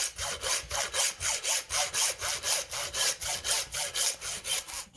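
A pork hand is cut near the shoulder blade with a saw, rapid regular back-and-forth strokes, about three or four per second, rasping loudly and close with no voices.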